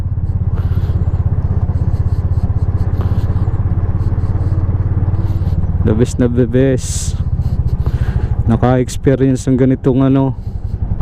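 A Bajaj RE 200 three-wheeler motorcycle engine idles with a steady low putter throughout, loud and close, while people talk over it.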